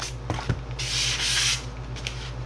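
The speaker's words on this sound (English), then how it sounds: "Use my sanding block here just to go along those edges" A sanding block rubs along the edges of a Dollar Tree hanger craft piece, a few short scratchy strokes followed by a longer steady rasping pass, close up over a low background hum.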